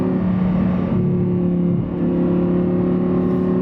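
An Audi R8 sports car engine revs steadily in third gear at lower RPMs, a loud, continuous droning hum with a slight dip midway and no voices over it.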